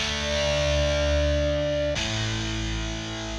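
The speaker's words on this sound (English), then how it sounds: "I added this power chords and feedback preset" Heavily distorted electric guitar power chords ring out thick and loud, sustaining with a buzzing edge, then shift to a new chord partway through.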